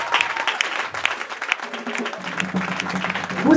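A church congregation applauds during a Sunday service, with steady, dense clapping filling the room throughout and a few voices and a low sustained tone rising underneath toward the end.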